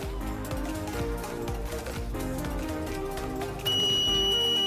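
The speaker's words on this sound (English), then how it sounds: "the buzzer turns on and the relay automatically disconnects the motor" A steady high electronic buzzer tone switches on near the end and holds as an overvoltage alarm in an induction motor protection system, over a dense background of music-like tones.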